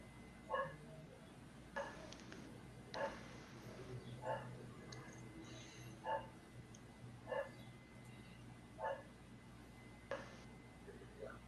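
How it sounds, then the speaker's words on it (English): Dogs bark in a regular series of about nine short, fairly distant barks spaced roughly a second or more apart over a low background hum. "Stop barking"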